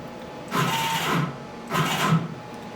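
A CNC machine spindle backs up along its Y axis, its motor giving two separate whirring bursts of about a second each, fairly loud and close, with a steady low hum between them and no talking.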